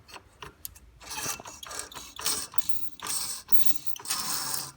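Metallic scraping and rattling from a front brake disc with a gap at the caliper, recurring in rough bursts as the wheel turns, fairly quiet and close, with no talking.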